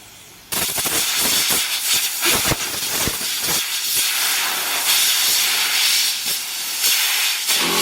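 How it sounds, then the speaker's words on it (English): Chain cleaner sprayed onto a pit bike chain, loud close aerosol hissing in repeated bursts with brief gaps, continuous spraying through most of the stretch. "we're going to use proper chain cleaner, get it sprayed up, get it nice and clean"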